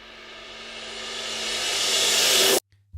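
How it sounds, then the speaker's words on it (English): A reversed cymbal swells steadily from quiet to a loud, hissing peak over about two and a half seconds, then cuts off abruptly. "the sound now grows in intensity up to the hit point of the cymbal"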